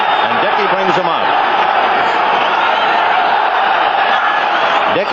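A dense, roaring stadium crowd at Shea Stadium during a 1981 Green Bay Packers at New York Jets football game, cheering loudly and continuously, with a commentator's voice running over the noise.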